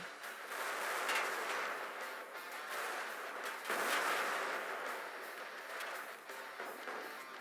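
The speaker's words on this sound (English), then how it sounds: "Artillery coming in." Artillery fire in the tank combat game Total Tank Simulator, a sustained dense roar of distant explosions and rumbling blasts with swelling bursts, continuous throughout.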